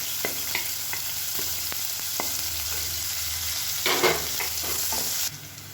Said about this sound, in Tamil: இப்போ இதில் ஒரு கைப்பிடி பொடியாக நறுக்கின வெங்காயம் சேர்க்கணும்.